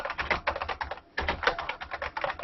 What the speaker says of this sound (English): It's sort of a pleasant background, cheery typing.